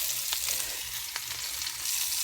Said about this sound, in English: I just placed the meatballs into the pan, and I'm going to let them brown on all sides.